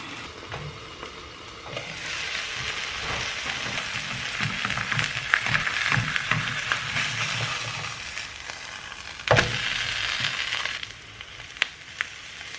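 Okonomiyaki with bacon fries in a pan, with a soft, steady sizzle building after a quiet start, a few scrapes and clinks, and one sharp knock near the end before the sound settles down.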